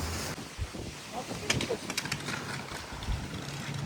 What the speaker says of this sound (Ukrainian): Ото і вітер обіцяний.